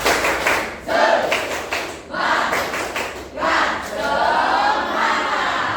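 A classroom of students performs the rhythmic 'tepuk semangat' clap chant in an Indonesian religious education lesson, with bursts of group clapping and shouted voices in repeated patterns.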